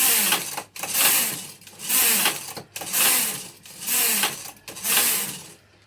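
A Silver 840 knitting machine carriage sliding back and forth across the needle bed in five or six rhythmic passes, each a loud rising and falling whoosh with mechanical clatter, separated by brief pauses, with no talking.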